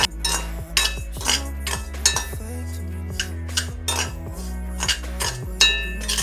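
A metal spoon repeatedly clinks and scrapes against a new pan in uneven rhythm, like quick stirring while cashews fry; no voices.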